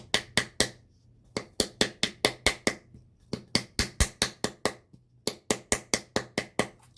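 A wooden stir stick paddles the edges and seam of a clay bud vase, a series of sharp close taps in quick bursts of four to seven with short pauses between groups.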